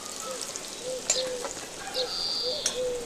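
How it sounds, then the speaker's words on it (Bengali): Potatoes frying in oil in a kadai, a soft continuous sizzle with a few light stirring scrapes and faint clinks, close and fairly quiet, no talking. "আলুগুলো একটু লাল লাল করে ভেজে নেব"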